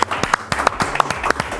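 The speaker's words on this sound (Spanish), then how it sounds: "Aplausos, por supuesto." Applause from a studio audience greets a guest on a talk show, a short burst of fairly close, rhythmic clapping that pulses steadily for under two seconds.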